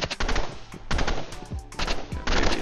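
Bursts of rapid gunfire in Roblox Rivals crack loudly and close in several quick volleys separated by brief pauses.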